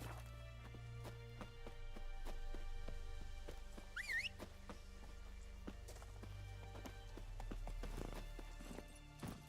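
Roach the horse gallops in The Witcher 3, hooves clip-clopping in a quick irregular rhythm over a low steady hum, fairly faint, with a brief chirping sound midway.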